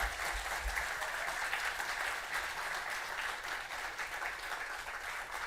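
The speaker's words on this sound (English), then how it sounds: "A big round of applause." Sustained applause from a conference keynote audience, steady and full throughout, a large crowd clapping continuously with no speech over it.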